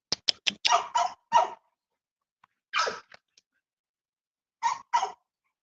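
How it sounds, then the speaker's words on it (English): A heavily pregnant female dog lets out several short, sharp barks in quick clusters with quiet gaps between them, close and loud, with no one talking. "That's my old Bobby Hall bred dog."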